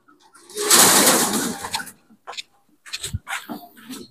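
A racing pigeon at its loft coos in short, throaty bursts following a long, loud rustling burst at the start, with a few scattered knocks between the calls.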